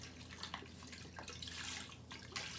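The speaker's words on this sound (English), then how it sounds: "We're going to pour this right into the pot." Chicken broth poured from a store-bought container into a soup pot for homemade chicken noodle soup, a steady splashing liquid stream running throughout the short stretch with no talk.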